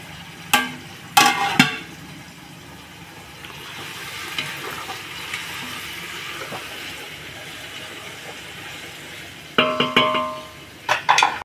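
Onions fry in a pan during home cooking, a soft continuous sizzle broken by a few sharp clattering bursts from stirring and utensils at the start and end.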